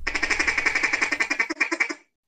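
A duck call blown to imitate a duck's chuckle: a fast, steady run of about twenty short, clipped quacking notes, loud and close, with no talking.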